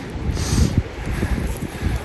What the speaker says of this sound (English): it's starting to get really windy